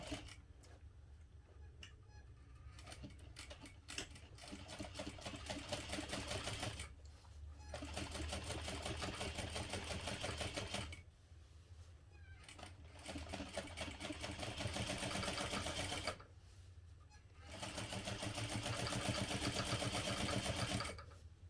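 A sewing machine fitted with a 1/4 inch presser foot stitching a backpack panel, running in steady buzzing bursts of several seconds separated by short pauses, close and loud with no talk.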